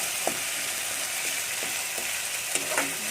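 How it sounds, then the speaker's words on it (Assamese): Spice paste fries in hot oil for a banana dish, giving a continuous sizzle broken by sharp spattering pops that recur every half second or so, close and alone without talk. "চিটিকি আহিছে তেলখিনি"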